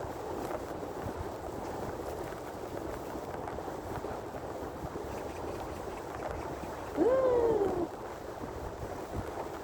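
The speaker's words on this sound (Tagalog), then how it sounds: "Lakas ng hangin." Constant rushing wind buffets the microphone on a moving pedicab throughout, with a brief louder gust or passing sound near the end.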